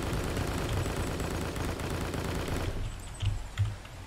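Shotgun blasts in the online shooter Strike Force Heroes, heavy dense gunfire filling most of the clip before thinning out, followed by a couple of louder separate booming shots near the end.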